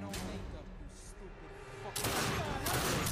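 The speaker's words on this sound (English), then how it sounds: "Shoot Quasimodo upside the head" Gunfire from the video game The Darkness 2: steady rattling shots that swell into a louder, denser barrage in the last second, under possible game sounds.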